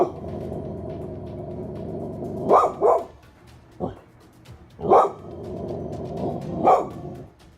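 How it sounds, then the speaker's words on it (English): A dog growls low and steadily under a muffled background, then breaks into several loud barks spaced a second or two apart, fairly close, with no clear talk. "She starts growling and barking more as she gazes upwards."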